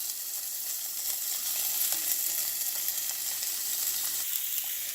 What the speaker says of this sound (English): I'm just going to mix it all together, and we're going to cook it till the potatoes just start to soften